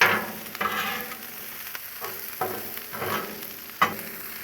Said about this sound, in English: And give these a good stir.